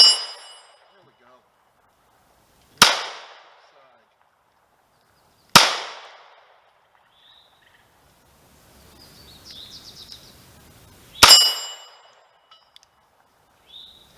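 Ruger LC9 and LC9S pistols fire Mk2z ammunition at a new steel target, giving three sharp, loud reports spaced a few seconds apart, each followed by a ringing decay, with faint sounds in the quiet gaps.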